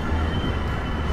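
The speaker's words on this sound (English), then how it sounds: "Cafe car right behind the engine," Amtrak passenger train cars, a cafe car and coaches, rolling past close by, a steady rumble with wheel and rail noise throughout the short stretch.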